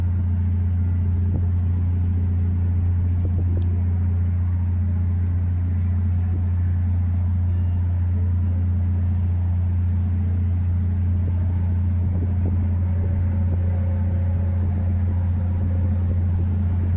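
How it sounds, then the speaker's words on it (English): Cars and trucks travel the I-4 highway near the Sanford bridge, heard from a dinner river cruise boat as a distant, steady traffic rumble beneath a loud, constant low engine drone. "look at all the cars and trucks going back and forth on I-4"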